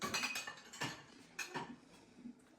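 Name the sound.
plates being loaded into a countertop dishwasher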